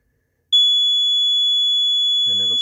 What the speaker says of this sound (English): you'll see the alarm will come on and the light will come on